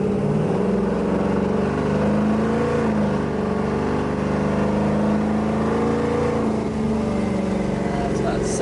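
A 1969 Chevrolet Camaro engine drones steadily under way, a continuous loud rumble from inside the moving car with slight shifts in pitch as it pulls, while someone speaks over it.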